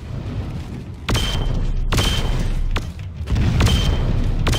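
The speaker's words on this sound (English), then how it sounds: "I'm picking up weapons fire." Heavy weapons fire in the Brute Force video game: three loud, booming shots spaced about a second apart over a low rumbling background, with no talking.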